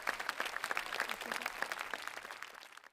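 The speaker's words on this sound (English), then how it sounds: "Voila, round of applause." An audience breaks into warm applause for a radio editor-in-chief at an indoor gathering, a dense patter of many hands clapping for about three seconds before cutting off.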